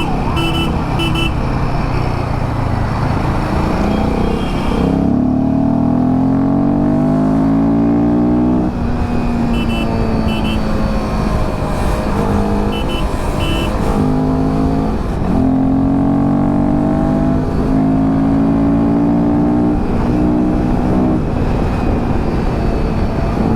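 Himalayan 450 motorcycle riding in fourth gear: a loud, steady engine drone with strong wind rush runs throughout, its pitch rising and falling in several slow sweeps as the rider speeds up and eases off.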